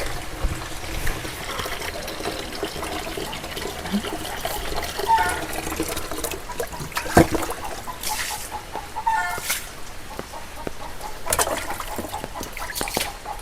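Water from an electric pump motor flows steadily nearby, a continuous trickling splash with intermittent clucks from chickens in the background.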